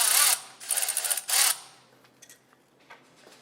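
Wrench or pliers working loose a brake caliper nut, giving three loud bursts of metallic ratcheting in the first second and a half, then faint scattered clicks and taps as the work continues nearby.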